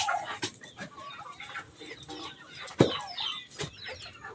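Chickens and turkeys clucking and calling while they wait for feed on a farm, a scatter of close, irregular clucks and squawks with one louder call in the middle.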